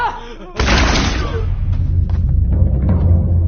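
A loud, sudden burst of gunfire breaks out at once, followed by a sustained, rumbling roar that fills the rest of the moment.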